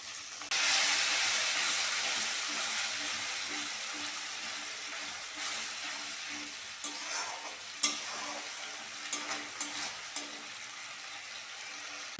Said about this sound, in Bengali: অল্প করে জল দিয়ে দেবো।